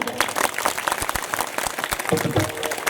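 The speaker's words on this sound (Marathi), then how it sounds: "आता जोरदार टाळी होऊ द्या." A crowd at a village kirtan gathering in Dhanora claps loudly and continuously, a dense, even patter of many hands close by.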